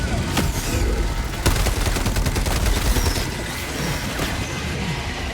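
Dense, loud gunfire in the co-op shooter game Army of Two, with rapid overlapping shots and bursts filling the whole stretch alongside crashes and impacts.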